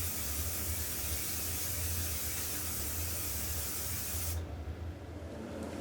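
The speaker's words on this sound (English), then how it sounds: "The powder coat is applied by a spray gun" Spray gun applying powder coat to Soyuz microphone cases at a factory: a steady, loud broadband hiss over a low hum, running continuously, then the spray cuts off near the end leaving the quieter hum.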